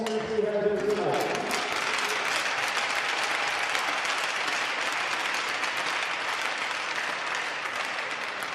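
Crowd at an amateur high school hockey game, Homestead vs Fort Wayne, applauding the seniors, a steady, dense wash of clapping and cheering that fills the arena for several seconds after a voice fades at the start.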